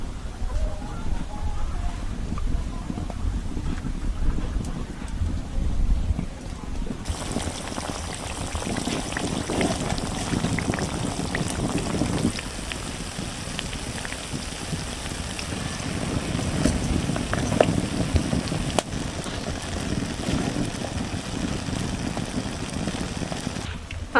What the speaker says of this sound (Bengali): আর বিস্কিটগুলো সুন্দর করে ভেজে নিয়েছি আমি